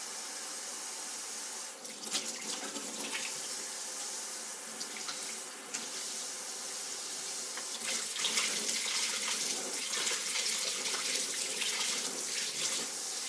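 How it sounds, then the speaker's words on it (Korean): Tap water pours steadily into a sink, a continuous splashing hiss that grows a little louder toward the end. "쪼록쪼록 물소리 좋지 않나요?"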